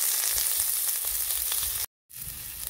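Two large chopped onions frying in a little oil in a kadhai for masala vangi, giving a steady close sizzle that cuts out briefly near the end, then resumes.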